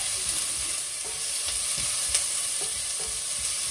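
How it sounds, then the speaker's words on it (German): Steady sizzling of onion and garlic frying in a pan, with occasional soft stirring scrapes, close and continuous, no voices. "Und dann gebe ich hier Zwiebel und Knoblauch rein."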